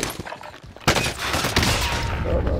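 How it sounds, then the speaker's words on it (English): Hostile gunfire from the video game Call of Duty: Modern Warfare: a dense fusillade of shots and bursts erupts suddenly and keeps rattling, loud and continuous after a quieter start. "Receiving hostile fire."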